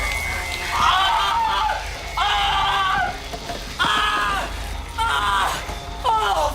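Panicked screams from the 2008 horror remake Day of the Dead, several loud separate shrieks in a row with short gaps between them, over a rainy-sounding background noise.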